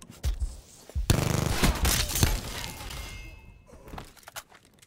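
Rocket launcher fire in Call of Duty: Black Ops 4 multiplayer: a sharp blast and heavy explosive rumble with debris, followed by scattered gunfire and further impacts fading out.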